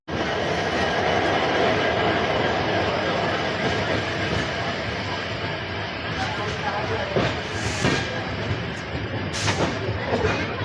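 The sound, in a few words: Goa Express train (12779) running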